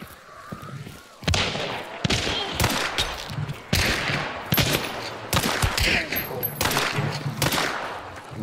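Gunfire during a hunt in a field with scattered corn: a rapid series of sharp, loud shots and cracks over about seven seconds, some closely spaced like a volley, with faint voices in the background.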